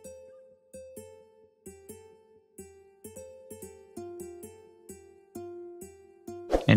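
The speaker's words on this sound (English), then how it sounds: "Next up, we have a plucky guitar from X-Band." Nylon-string guitar notes from an X-Band finger nylon sample are plucked one after another in a slow, uneven melody, each note ringing briefly and fading, ending in a short noisy burst.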